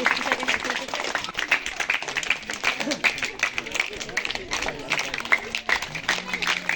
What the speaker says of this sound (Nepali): सबैले जोरदारले ताली दिनु होला, स्वागत गरिदिनु अनुरोध गर्दछु